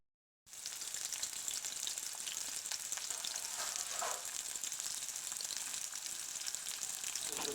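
Onion, garlic and ginger frying in a pan, a dense continuous sizzle that starts abruptly after a brief silence and carries on steadily, with faint stirring scrapes underneath.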